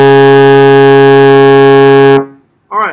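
Trombone holding a steady, loud low C in sixth position for about two seconds, rich and brassy, cut off cleanly, followed by a short spoken voice.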